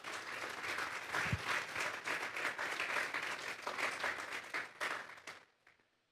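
A church congregation claps in a strong, dense burst of applause that stays even for several seconds, then fades out quickly into near silence.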